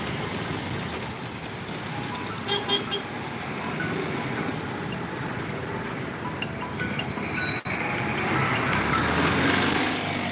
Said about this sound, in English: Wow, traffic jam early in the morning.